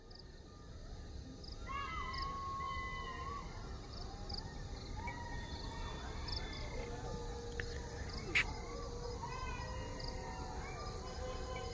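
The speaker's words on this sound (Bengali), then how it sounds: "ঝিঝি পোকার ডাক" Faint crickets chirping near a railway station at dusk, with thin high trills and scattered calls of other creatures over a quiet, low background hum.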